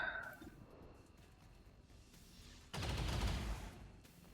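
Burst of gunfire in the strategy game Long War of the Chosen, a dense loud volley of shots erupting midway after a quieter stretch of faint game ambience.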